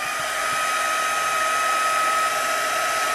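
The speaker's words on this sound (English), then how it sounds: "you can hit it with a heat tool" A heat tool blows steadily over a watercolor-painted card, its loud, even whir running unbroken from start to finish with no voices.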